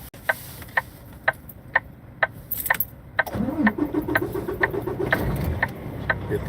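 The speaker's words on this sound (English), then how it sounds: "get the truck started back up." A truck engine is cranked and fires up after about three seconds of regular beeping chimes, then settles into a rough idle close by while the warning beeps continue, with no one speaking.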